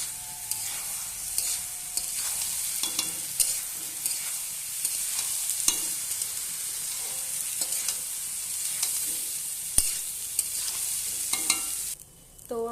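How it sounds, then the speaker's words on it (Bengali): Spiced meat and rice for tehari frying in a pot, a continuous close sizzle broken by frequent spoon scrapes and clanks as it is stirred, with a brief pause near the end. "এবার আমি ভালোভাবে কষাবো।"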